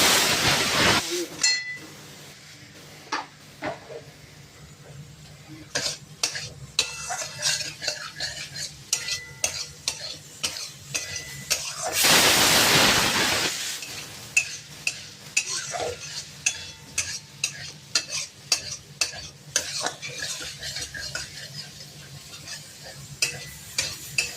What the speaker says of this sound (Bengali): দেখো আমি কীরকম করে কষিয়ে রান্না করছি